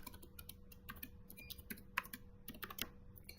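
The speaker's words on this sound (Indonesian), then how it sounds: "di sini saya akan mengetik dev init" Code is typed on a computer keyboard in quick, irregular bursts of crisp key clicks and taps, close and fairly quiet, with no talking over them.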